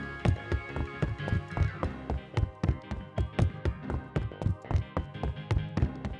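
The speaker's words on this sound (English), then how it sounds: "Knock, knock." Rapid, irregular taps and knocks from toy play with Imaginext figures at a jail set, a fast clattering series of sharp hits without speech.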